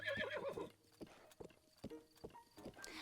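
Horse hooves clip-clop at a gallop in Breath of the Wild, with a loud neigh at the start followed by a run of rhythmic hoofbeats and softer game sounds.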